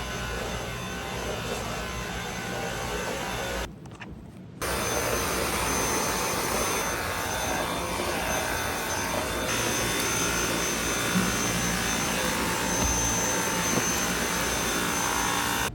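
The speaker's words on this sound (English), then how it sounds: "I just vacuumed the whole apartment." A vacuum cleaner runs over dirty apartment floors with a loud, steady whooshing roar up close. It cuts out briefly for about a second, then resumes and continues unbroken. No one speaks.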